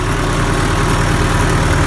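A Farmall 560 tractor engine runs steadily at a low, even idle, a continuous close rumble with no voices over it.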